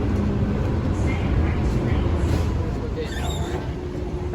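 An airport shuttle train runs toward the main terminal, a steady low rumble and rolling rail noise throughout, with a few faint higher squeals near the end.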